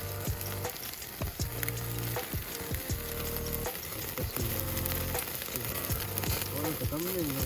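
Chicken pieces sizzling and crackling as they grill over a charcoal fire in a fire pit at a scenic campsite, a close, steady fry with sharp pops and clicks throughout, faint voices in the background.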